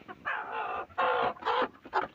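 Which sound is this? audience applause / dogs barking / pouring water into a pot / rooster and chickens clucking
rooster and chickens clucking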